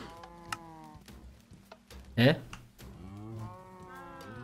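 Several adult and young cows in a Minecraft modpack low repeatedly, overlapping moos close by, with keyboard clicks and a brief exclaimed word from a player.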